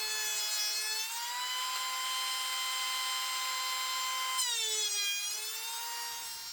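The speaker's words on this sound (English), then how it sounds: "I ran the backside through the joiner a few times to clean that up and make it nice and flat and square" A woodworking jointer planes the back of a glued-up wood panel, giving a loud, steady high-pitched whine that dips briefly in pitch midway as the board passes the cutter, heard close and without talk.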